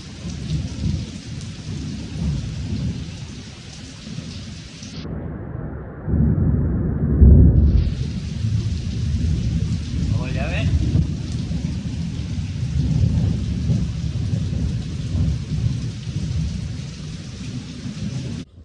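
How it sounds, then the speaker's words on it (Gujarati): Heavy rain roars steadily while deep thunder rumbles and rolls through the middle, the downpour never letting up. "વરસાદ તો હજી ચાલુ છે તમે જોઈ શકો છો પણ આ વીજળી ને એવું થાય છે"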